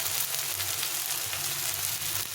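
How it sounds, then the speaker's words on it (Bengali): Chili, turmeric and cumin powders fry in a pan for a spicy fish curry, a close, steady, dense sizzle running unbroken and without speech. "দিয়ে এটাকে একটু ভেজে নিয়ে ভালোভাবে কষে নিতে হবে।"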